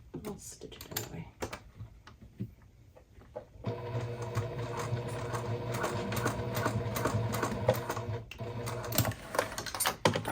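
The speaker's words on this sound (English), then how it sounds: "I'll stitch it anyway." After a few scattered taps and brief talking, a sewing machine stitches a crossbody bag, running in one continuous, fairly close whirring burst of rapid needle strokes that stops near the end.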